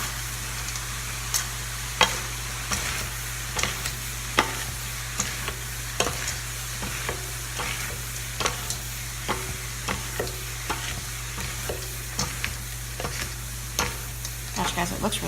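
Peas are stirred into rice frying in a pan for teriyaki pineapple rice: a steady sizzle runs throughout, broken by repeated, fairly regular scraping strokes of a utensil, close and loud, with no talk.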